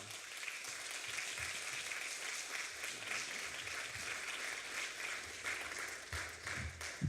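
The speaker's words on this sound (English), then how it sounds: "Let's receive her with a round of applause" A room of listeners claps to welcome someone speaker at a talk, the applause fairly quiet and distant, steady with a few louder bursts near the end.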